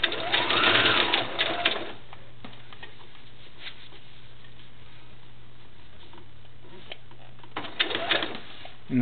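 Sewing machine stitching legs onto a doll, a soft rapid whirring burst at the start and again near the end, separated by a quiet pause with a faint steady hum.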